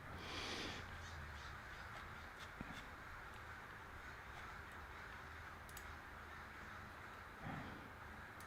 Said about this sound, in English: Sounds like a bunch of crows circling around.